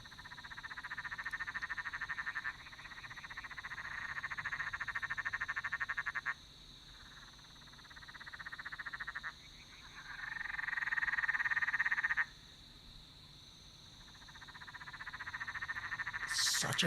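A frog croaks continuously outdoors in loud, rasping pulsed bursts several seconds long, separated by brief quieter gaps, with a steady high insect-like drone underneath.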